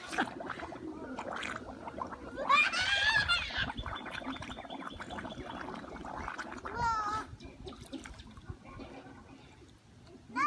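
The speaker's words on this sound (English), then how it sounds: "Blowing bubbles." Bubbles blown into water, a gurgling, burbling stream of pops and splutters at close range, with a voice and brief chatter mixed in, fairly quiet overall.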